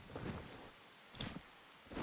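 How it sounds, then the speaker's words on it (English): Rain from the Enshrouded video game: a steady wash of falling rain with a low rumbling undertone and a few swelling gusts, heard alone without talk. "It's all rainy."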